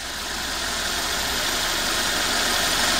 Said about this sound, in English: just being here and listening to this engine, I couldn't believe this.